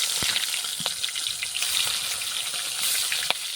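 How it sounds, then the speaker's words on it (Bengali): Fish fries in hot mustard oil in a wok, giving a steady close sizzling hiss broken by a few sharp pops and spatters, with no voices. "তেলটা গরম হয়ে গেছে, এই যে মাছটা দিয়ে দিলাম।"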